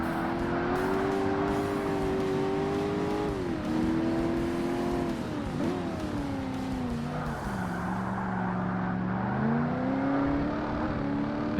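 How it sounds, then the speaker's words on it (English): A Porsche race car in Forza Motorsport, in a classic sports car event, makes a sustained engine drone that shifts pitch with throttle and gear changes, plus brief tire squeal, heard from the driver's position with no talk. "I hear a Porsche getting closer to me"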